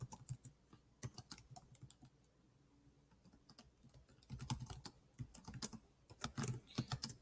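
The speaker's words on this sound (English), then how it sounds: "we're going to click and we're going to type in an answer here" Someone types an answer on a computer keyboard, quick bursts of close, crisp keystrokes with a brief pause in the middle.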